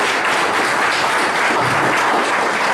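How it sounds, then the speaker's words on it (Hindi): Sustained loud applause from a student audience at a motivational talk, dense steady clapping filling the whole stretch with no voices over it. "तो एक बार जोरदार तालियां अपने लिए बजा दो।"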